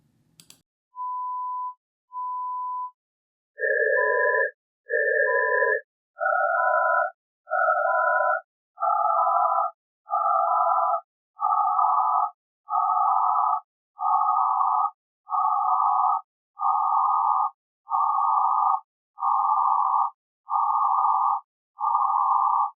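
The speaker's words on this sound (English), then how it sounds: "you will hear the tone when the noise energy falls outside the critical band." A steady pure test tone beeps in a repeating on-off pattern while bursts of masking noise at shifting pitches sound with it, a critical-band demonstration. The noise bursts start low and climb toward the tone, all clean and synthetic with no voice.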